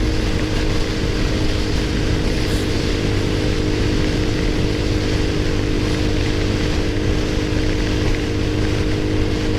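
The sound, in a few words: XPro Roadster X24 motorcycle riding on highway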